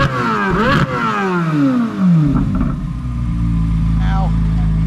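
A twin-turbo Chevrolet Corvette C8 engine revs hard several times, pitch sweeping up and down in loud rising and falling whines, then settles into a steady idle.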